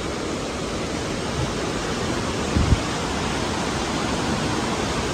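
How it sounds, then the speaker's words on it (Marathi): Steady broadband roar of a hidden waterfall at Devgad Kalvi in the Konkan region, constant and close, with one brief low thump partway through and no voices. "या तर मित्रांनो, हा आहे आपला वॉटरफॉल."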